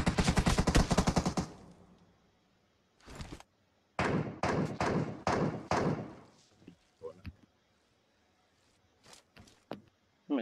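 Rapid automatic gunfire in PUBG Mobile, a loud dense burst up front, then short bursts and scattered single shots at varying distances, separated by brief quiet gaps.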